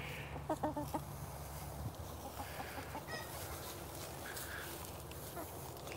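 Chickens in a canistel fruit grove cluck and squawk in short bursts, close at first and then scattered, over a soft outdoor background.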